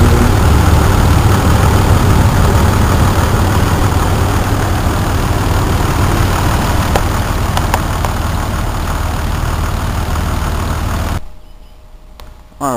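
A 1996 Jeep Grand Cherokee 4.0 4x4 engine idles steadily and close, with a low, even rumble for about eleven seconds before dropping away sharply near the end.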